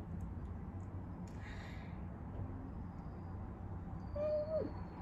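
Birds call faintly outdoors during an eating Q&A, a soft hoot-like whistle rising then falling near the end, with quiet rustling and low background hum.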